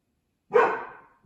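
A single dog bark, close and fairly loud, followed by the start of another.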